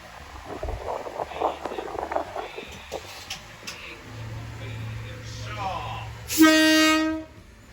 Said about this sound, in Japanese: 電車まもなく動きます。